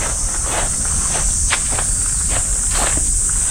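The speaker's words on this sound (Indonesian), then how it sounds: "Banyak suara jangkrik teman-teman." Crickets chirping around a Japanese shrine in Miyazaki, a dense high continuous buzz filling the background, loud and steady, with soft footsteps and rustling underneath.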